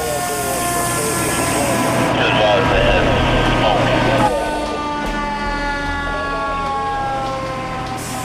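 Washington Fire and Rescue fire engine siren wailing loudly in rising and falling tones as the truck races to an apartment fire, with heavy road and engine rumble beneath that eases near the end.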